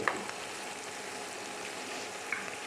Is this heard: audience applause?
no